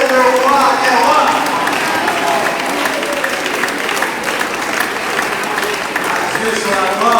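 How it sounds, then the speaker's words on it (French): Church congregation applauding loudly and continuously, dense sustained clapping filling the space while voices talk and call out over it throughout. "Acclamez le Seigneur Jésus-Christ"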